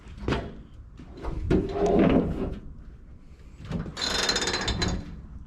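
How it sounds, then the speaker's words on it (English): Rear of a 1959 Ford Thames being opened: close metallic clunks and latch clicks, a creaking slide of metal, then a loud rattling, scraping mechanical clatter toward the end. "Open up the back here."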